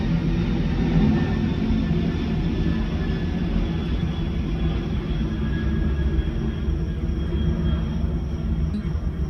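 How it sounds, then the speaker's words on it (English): An airplane flying past overhead, heard as a steady, fairly loud low rumble that holds for several seconds without any voices. "it's an airplane."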